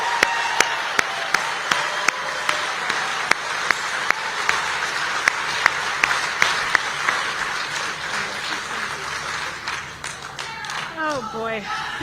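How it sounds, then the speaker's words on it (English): Audience applause at a live studio event, sustained steady clapping from a crowd with sharp individual claps standing out, fading near the end as a voice begins speaking. "Let's give Sarah a round of applause."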